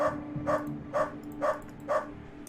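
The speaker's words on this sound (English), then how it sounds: "Hear a dog barking" A dog barking in the video game UnderRail: five evenly spaced barks over a steady low hum of background ambience.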